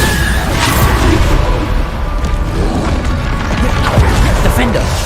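Bombarda spell blasts in Hogwarts Legacy, a loud, steady run of booming impacts and crashes with thuds and splintering debris, with combat noise going on throughout.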